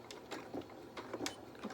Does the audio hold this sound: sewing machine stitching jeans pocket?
yes